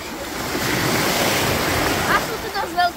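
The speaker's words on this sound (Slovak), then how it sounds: "A sú tu dosť veľké vlny." Big sea waves roll in at a beach in Sousse, Tunisia, a loud continuous surf wash with wind buffeting the microphone and a few brief sharper splashes near the end.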